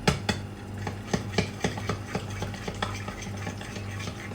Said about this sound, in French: vous mélangez tout simplement